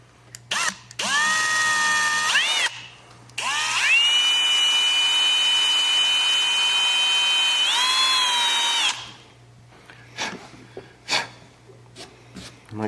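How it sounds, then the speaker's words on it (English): A power drill bores into deer skull bone for a European skull mount, two whining bursts with rising pitch, the second sustained for several seconds, followed by quiet handling noises. "drill that out so when your screw goes in there, you don't split your bone apart"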